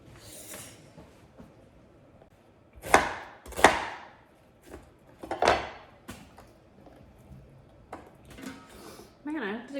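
A kitchen knife chops onions on a board while enchilada sauce is prepared for pressure canning. A few sharp, close chops land in a brief cluster with quieter handling noises between them.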